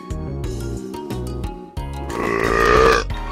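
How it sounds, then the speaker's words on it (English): A loud, drawn-out burp with a grunting, piggish quality, rising to its strongest point near the end, heard over a brief melodic musical background. "Oops, I burped too loud."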